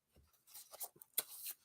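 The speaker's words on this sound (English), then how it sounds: "I am currently shuffling the Spirit Animal Oracle cards" Oracle cards being shuffled by hand, a run of soft papery riffles and slaps in quick bursts that come close and fairly quiet with nothing else sounding.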